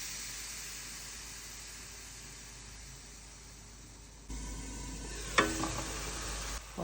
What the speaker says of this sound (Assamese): মছলাখিনি ধুনীয়াকৈ ভুনি লৈ মাংসটো দি দিলোঁ।